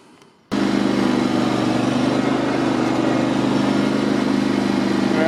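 Cub Cadet GT2544 lawn tractor engine starting up on a test drive after a BDU10 transmission service, going from quiet to a loud, steady, close drone with a low, even hum that holds for several seconds, with no talking.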